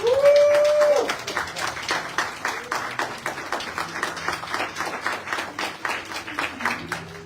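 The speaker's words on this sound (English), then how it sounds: "Give the Panther Party a round of applause." At a Black men's movement rally, a short raised voice gives way to a crowd clapping in a steady, rhythmic beat that carries on for several seconds.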